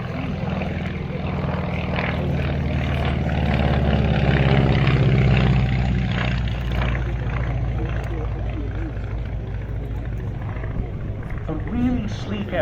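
A Beech E-17 Staggerwing biplane's radial engine drones loudly and steadily, swelling slightly as it passes at an airshow, with someone talking over it.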